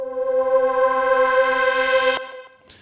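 Synthesizer note from Native Instruments Massive, its filter envelope sweeping the cutoff so the tone brightens over about two seconds, then cutting off abruptly with a brief faint tail; a single sustained, loud note with no talking.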